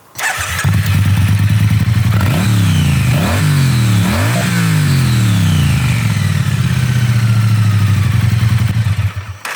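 A Triumph T100 motorcycle engine idles loudly up close, then revs sharply three times with a deep, throaty stock exhaust note before settling back to a steady idle.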